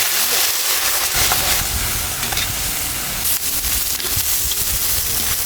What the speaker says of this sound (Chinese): 听到噼里啪啦的声音了吗？